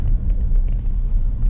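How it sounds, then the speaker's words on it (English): A big waste management truck rumbles close by on an industrial street in Oceanside, a steady low engine drone filling the whole moment. "Big waste management truck for you there."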